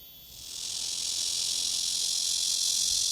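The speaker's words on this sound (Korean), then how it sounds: "하지만 말매미는 소나기가 퍼붓듯 우렁차게 쇠하고 울죠." A large brown Cryptotympana atrata cicada buzzes in a dense, loud, continuous shrill drone that swells in over the first half-second and then holds steady, with no talking.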